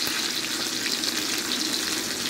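Breaded milanesa meat fries in a pan over moderate heat, a steady close crackling sizzle with no break.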